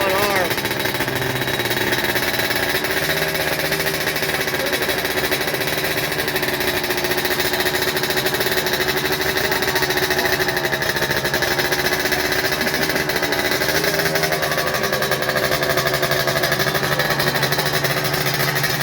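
A Kawasaki ZX14R motorcycle engine runs with a steady, continuous rattling drone close by, holding an even pitch throughout, with speech mixed in.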